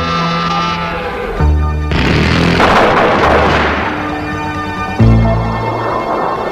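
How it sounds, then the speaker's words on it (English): A GAU-13A four-barrel 30 mm rotary Gatling cannon fires at about 2,400 rounds per minute, giving a loud, close, buzzing roar in several sustained bursts that shift in pitch between them. "Since it's a Gatling gun, the GAU-13A has tremendous firepower,"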